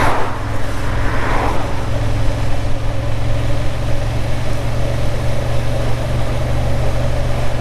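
A Honda Hornet CB750 motorcycle engine running steadily, a low even drone close by with a constant tone and no revving, alone and unbroken throughout.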